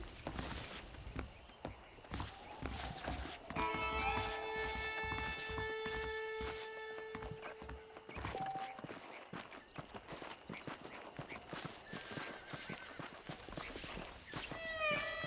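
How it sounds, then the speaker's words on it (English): Horses walking in the Western video game Red Dead Redemption, hooves clip-clopping in a steady close rhythm throughout, with sustained musical tones and other game ambience layered over the steps. "The horses are saddled up over here."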